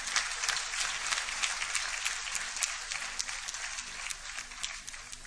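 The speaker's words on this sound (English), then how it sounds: "let's have another round of applause for him" Audience at an ICAP gold medal and certificate award ceremony clapping for an honoree, a lively, continuous burst of many hands with crisp individual claps standing out, fairly close and sustained.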